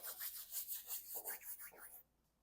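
Charcoal being rubbed onto a painting in a series of quick, rhythmic scratchy strokes, close and fairly soft, about seven or eight passes that stop abruptly into near silence.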